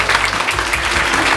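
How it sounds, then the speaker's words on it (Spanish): Short, loud burst of audience applause at a school welcoming a singer from The Voice Chile, continuous dense clapping from start to finish. "Dejamos con un fuerte aplauso a nuestra cantante"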